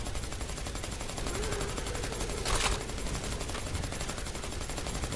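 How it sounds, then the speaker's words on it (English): Machine gun fire in the Predator: Hunting Grounds shooter, a steady stuttering burst of rapid shots running through the whole stretch with a brief louder swell midway, no voices over it. "This machine gun is like stuttering or something."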